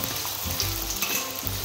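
Steady frying sizzle from an iron wok over a low flame while chicken curry paste browns, a continuous crackling hiss with soft stirring scrapes, close and alone.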